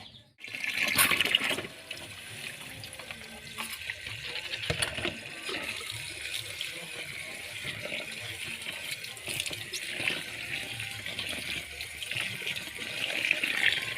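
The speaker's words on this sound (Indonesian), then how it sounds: "Mencucinya harus bersih ya, dibilas 2-3 kali" Clover leaves being rinsed in water, with a steady broadband wash of running, splashing water that starts with a louder gush and continues at an even level throughout, no talking.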